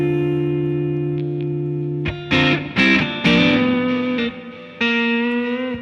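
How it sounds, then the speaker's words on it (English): An electric guitar rings out with heavy reverb, a sustained chord followed by several strummed chords that wash and linger in a long echoing tail. "That's a lot of reverb."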